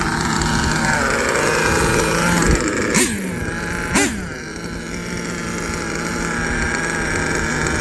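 A pair of engines on a custom-chassis Ofna Jammin X1 CRT twin-engine RC car idle with a buzzy, steady drone, broken by two brief sharp blips a second apart midway.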